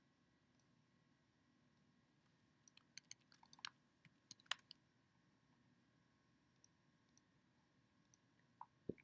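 Quiet, sparse keystrokes tapping on a computer keyboard, scattered short clicks in small bursts with gaps between, close and soft, no talking.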